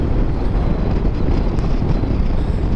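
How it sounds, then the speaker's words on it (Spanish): Strong wind buffeting the microphone while travelling along national route 3 near Tolhuin toward Río Grande, a heavy continuous low roar with no other sounds. "Uy, Dios, está fuerte el viento."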